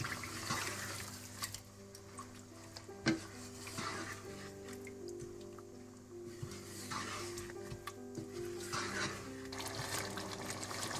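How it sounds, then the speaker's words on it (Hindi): Water pours into a pan of chicken korma gravy, a faint splashing trickle with soft sizzling and stirring sounds, quiet and close, rising and falling across several seconds. "इसके बाद आप इसकी जितनी ग्रेवी रखना चाहते हैं उतना पानी डाल दें।"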